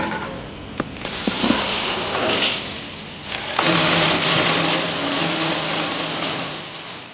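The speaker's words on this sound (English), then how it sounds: "The machine works continually, slide with high precision, ensuring every package has consistent weight and quality." An automatic nail carton packing machine in a nail factory runs continuously, producing a loud, dense mechanical whir with a few sharp clicks and knocks. The noise swells partway through and then holds steady.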